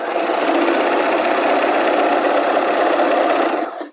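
A sewing machine runs steadily while stitching in a sleeve, a loud, close, continuous motor whir with rapid needle clatter for about four seconds, then stopping abruptly.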